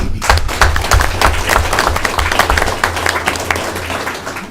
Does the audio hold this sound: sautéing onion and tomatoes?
no